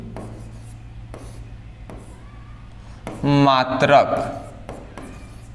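Chalk or marker strokes rubbing on a board during a class 11 physics lesson on units and measurement, faint scratchy scribbles running under a teacher's talk.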